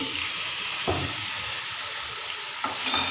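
Chicken pieces sizzle in hot ghee in a pan with a steady, close, hissing fry. A few soft clattering stirs break through the continuous sizzle.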